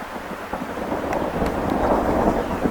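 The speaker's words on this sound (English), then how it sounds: "I've got a severe storm potentially brewing over my head with lightning going crazy" Thunder from a severe storm rolls over an exposed spot on the Superior Hiking Trail, a deep continuous rumble with light rain hissing, close and fairly loud, with no talking.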